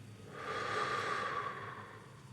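A slow breath is let out through the mouth during a guided meditation for anxiety, a soft steady airy exhale that swells and fades over about two seconds, heard close up with no speech over it.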